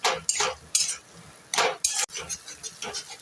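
A spoon scraping and stirring pointed gourd and prawn paste in a pan, with repeated bursts of gritty scraping and clinks between brief pauses.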